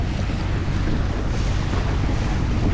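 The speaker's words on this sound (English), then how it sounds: "Definitely pretty windy" Strong wind buffets a fishing boat on the water off Northeast Florida, a dense continuous roar of gusts against the microphone with a low rumble of waves underneath and no voices.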